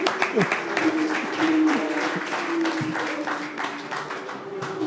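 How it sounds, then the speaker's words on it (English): A room full of people claps for the top drivers at a DTM motorsport press conference in Zandvoort, moderate and steady, with a voice or tone briefly sounding over the clapping. "I think at first it's worth a big round of applause for our top performing drivers here"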